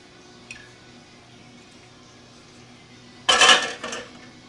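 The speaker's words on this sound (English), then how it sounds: "Now watch me reposition the jars get them just at the right location" Glass canning jars knock and clink together as they are shifted inside a canner, with a small tap early on and then a sharp cluster of clinks near the end in a quiet room.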